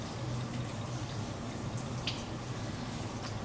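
Fuel drips steadily from a car's fuel filter into a pan beneath a low, constant mechanical hum, with a few brighter drops standing out; no one speaks.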